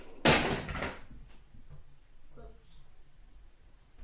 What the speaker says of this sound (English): because everything goes slamming